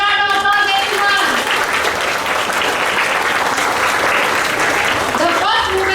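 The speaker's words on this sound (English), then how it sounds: "Huge round of applause, everyone." An audience at a school assembly claps in loud, dense, steady applause that fills the whole stretch without a break.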